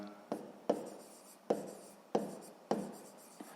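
A pen writes by hand on paper during a sixth-grade maths exercise, making five or six sharp scratchy strokes at a regular pace, close and quiet with no speech.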